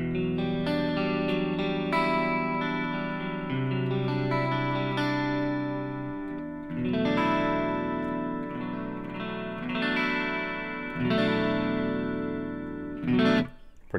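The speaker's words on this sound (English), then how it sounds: "So when you combine the flanger with the pitch shifter, you get a really cool sound." Electric guitar run through a flanger combined with a pitch shifter, a sustained, swirling, doubled tone with shifting harmonics, played as a steady series of loud chords and notes with no talking.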